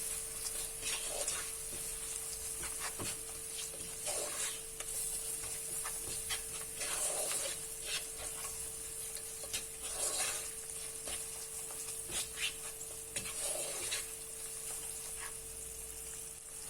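Spices sizzle in a hot pan for vegetable biryani — garam masala, cumin powder, coriander powder and ginger-garlic paste — with a steady close frying hiss and occasional soft stirring scrapes throughout.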